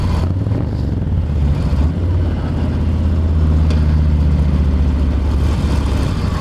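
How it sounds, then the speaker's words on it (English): Harley-Davidson motorcycle engine while riding over Putney Bridge, a loud steady low rumble with wind noise throughout, no talk. "Every time I twist this throttle, I'm thinking it's gonna make a really great noise"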